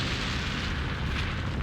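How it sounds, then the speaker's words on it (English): An explosion in the visual novel Lamento: Beyond the Void is a sustained, loud rumbling roar that fills the whole moment with dense, crackling low-end noise and no voices. "Right after the explosion roared in his ears"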